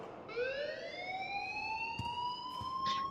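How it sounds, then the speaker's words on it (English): A school alarm in Life Is Strange wails steadily upward in pitch like a siren, loud and sustained, with a few faint clicks and knocks beneath it and no talking. "please turn off that alarm"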